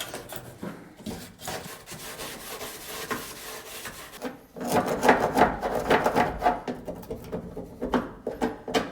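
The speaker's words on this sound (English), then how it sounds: "Now this has an edge on it, and I can use this to scrape a little bit." A plastic edge scrapes along an F100 truck door panel in steady rubbing strokes, soft at first and then louder and more rasping, close up with no talking.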